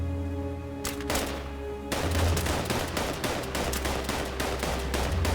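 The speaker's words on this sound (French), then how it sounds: "Et arrêtez de tirer, on s'entend plus ici." Gunfire at a shooting range during a war-games session, rapid overlapping shots and bursts, loud and close, near-continuous after a short lull with a steady hum underneath.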